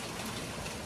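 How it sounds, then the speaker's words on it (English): Steady rain falling just outside a covered patio, a close, even hiss of drops with no voices. "today, as I'm filming this, it is raining pretty good. I'm sitting out on my patio. You can hear the rain."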